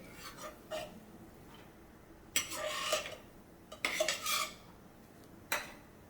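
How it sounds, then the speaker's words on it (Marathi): Broken wheat lapsi is roasted in a pan over a medium flame and stirred with a spoon, giving scattered scraping strokes and a few louder clustered scrapes against the metal. No voices are present. "ह्याच्यातच आपल्याला आता लापशी भाजून घ्यायची"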